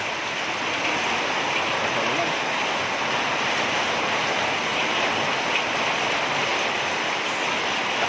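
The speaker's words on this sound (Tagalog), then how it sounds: "Lakas ng ulan no." Heavy rain pours during a typhoon, a dense, unbroken roar of hissing downpour at constant loudness throughout, close and enveloping with no pauses.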